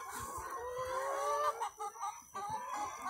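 Young hens on a poultry farm housing about a thousand birds cluck and call continuously as they are let out, a busy chorus of close fowl with no talking.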